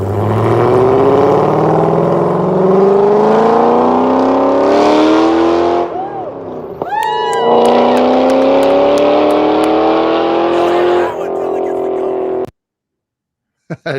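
A car engine revs hard and pulls away, climbing through rising gears and then easing off before cutting out near the end; it is loud and close, and a person talks over part of it.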